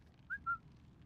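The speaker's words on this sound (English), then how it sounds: "Give a whistle." Two short whistled notes, a quick chirp and then a longer held tone, drift softly above quiet room hum: a person whistling a bit of "Always Look on the Bright Side of Life".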